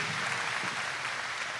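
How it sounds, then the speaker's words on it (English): Steady, fairly faint applause from a crowd at the Ohio State Fair Sale of Champions, a dense, even wash of clapping with no break. "give them a round of applause"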